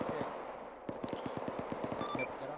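Rapid bursts of grenade machine gun fire in a military video game, a rhythmic string of sharp thumps over background noise, with radio chatter between players.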